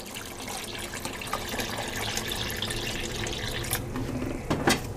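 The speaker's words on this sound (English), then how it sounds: "So I'm going to go ahead and add some more water." Water poured into a pot of simmering elderberries, a steady trickling splash with a few brighter drips and clinks near the end, moderately close and without talk.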